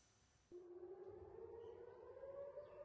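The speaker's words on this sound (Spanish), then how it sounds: "Las sirenas antiaéreas sonaron en Tel Aviv, obligando a la gente a correr a los refugios hasta que pasara el peligro." An air raid siren wails over Tel Aviv, starting abruptly and holding a loud, steady, slowly rising tone that continues to the end with no voices.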